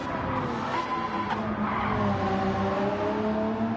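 A car, a Corvette in Gran Turismo 7 online racing, spins out with a long, loud tire skid and squeal over engine drone, the screech wavering in pitch for several seconds.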